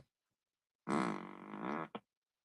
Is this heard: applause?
no